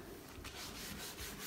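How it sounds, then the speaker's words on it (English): A grip pad scrubs an outdoor bench being stripped and restored, giving a faint, continuous rubbing scour with soft repeated strokes. "we'll grab one of our grip pads that you see us using on normal stripping projects"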